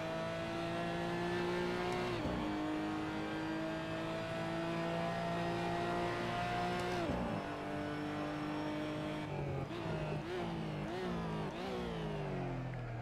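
Porsche GT4 Clubsport race car engine in a sim racing game at the Nurburgring, revving steadily with rising pitch sweeps and gear shifts, loud and continuous throughout with no talk.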